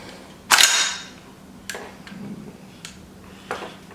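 An empty gun being handled and dry-fired at a shooting range: one sharp metallic snap, then several fainter clicks spaced about a second apart against quiet background noise.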